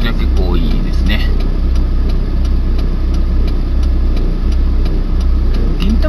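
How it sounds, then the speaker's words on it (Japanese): Steady car traffic on Japan's National Route 6 (Mito Kaido) in Ibaraki on a Sunday, a continuous low engine and road rumble heard from inside a moving car, with someone talking over it throughout. "車が結構走ってますけど、日曜日なんでね、まあ、車通りは結構多いですね。"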